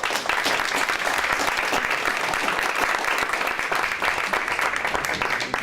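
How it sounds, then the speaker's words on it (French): Loud, sustained applause from a crowd at a public political meeting in Joinville-le-Pont, dense clapping continuing without pause, close and full. "Et je vous demande de l'applaudir quand même."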